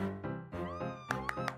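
A cat meows several times in a row with rising and falling tones, close and fairly loud, amid a playful household scene with no talk over the calls.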